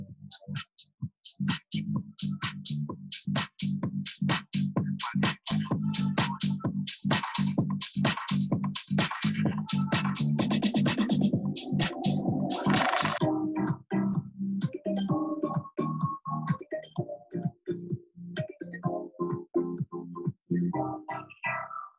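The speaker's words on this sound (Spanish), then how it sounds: "lo que están escuchando ahorita es un remix que hice hace poco" An electronic dance remix of a pop song with punchy, steady beats and layered synths, building dense and loud before thinning into a lighter melodic section.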